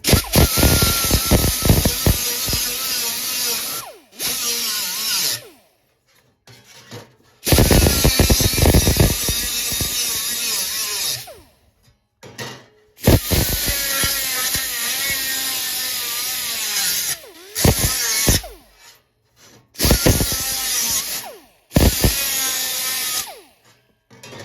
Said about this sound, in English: I'll take my little angle grinder here with my wheel and just clean up this metal that's hanging off